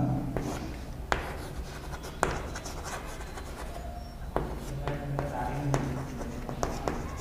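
Chalk or marker writing on a classroom board, steady scratching strokes with sharp taps as each stroke starts, under a roomy background hum.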